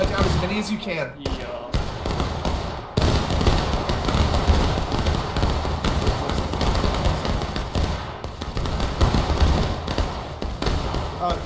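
Musket volley from a line of infantry firing at will in the Civil War game War of Rights: a dense, continuous crackle of overlapping shots and thuds over about eleven seconds, loud and sustained, with voices faintly mixed in.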